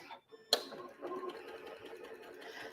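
Sewing machine stitching quilt block pieces right sides together, a sharp start then a steady fast whirring hum running close and continuous for a couple of seconds.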